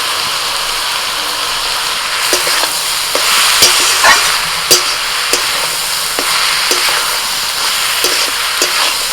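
Ginger, green chilli, cumin paste, salt and turmeric sizzle loudly in hot oil while being stirred, a steady frying hiss broken by regular scraping strokes of the spatula against the pan, close up with no voices.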